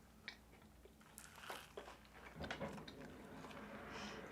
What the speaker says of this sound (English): While you're munching your way through, I'll share my thoughts.